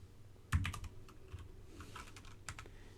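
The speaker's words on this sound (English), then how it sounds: "I can type some stuff." Typing on a computer keyboard in Windows Notepad: a quiet, close series of irregular key clicks, with a sharper thump at the start and scattered taps continuing throughout.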